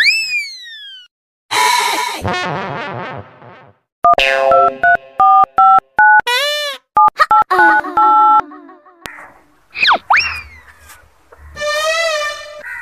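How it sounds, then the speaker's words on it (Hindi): A run of telephone keypad tones, short steady beeps at different pitches, with squealing electronic sounds and bursts of noise before and after. "फोन करता हूँ"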